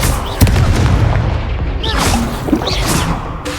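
A Confringo explosive spell cast in Hogwarts Legacy, heard as a sharp booming blast followed by further rumbling impacts and whooshes amid dense game combat noise, with a voice shouting spell names.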